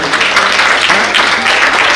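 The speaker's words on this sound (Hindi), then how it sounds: "हमारे वियतनाम से आए सभी मित्रों के लिए भी एक बार तालियां बजा दीजिए" A hall audience at an India-Vietnam friendship event breaks into dense, sustained applause, loud and close, with many hands clapping steadily throughout.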